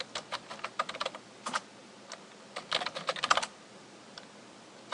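Commands being typed on a computer keyboard, with bursts of crisp, close key clicks in irregular clusters and short pauses between them.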